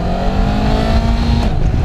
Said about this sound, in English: So pull that incredibly light clutch lever in, put it in first, and let's make it move off.